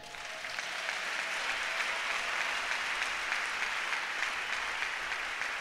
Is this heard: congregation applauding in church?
yes